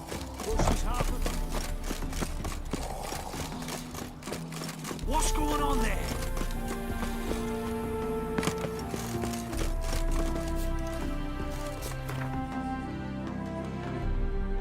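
Horse hooves clip-clop in The Witcher 3, a steady rhythmic patter of galloping steps under background music, with someone briefly speaking over it partway through.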